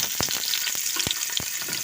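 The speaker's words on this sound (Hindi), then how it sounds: "हम इसमें प्याज का तड़का लगाएंगे।" Onion sizzles and crackles in hot ghee, a dense frying hiss with soft pops and stirring knocks, close and steady without talk.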